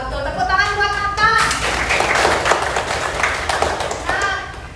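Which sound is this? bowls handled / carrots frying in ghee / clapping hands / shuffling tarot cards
clapping hands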